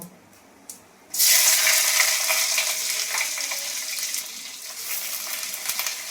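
After a quiet moment and a light knock, onions hit hot oil with a sudden loud sizzle that keeps crackling steadily, easing slightly toward the end.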